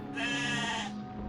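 A sheep man character in a courtroom judging video game bleats once, a loud, wavering, nasal cry lasting about a second and fading into low background hum.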